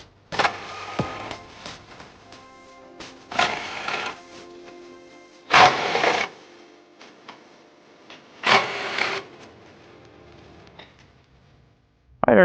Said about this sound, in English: we're going to go ahead and use our impact drill and a 21mm swivel socket